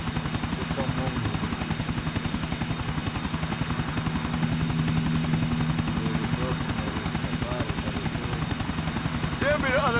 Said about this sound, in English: There'll be the other chopper.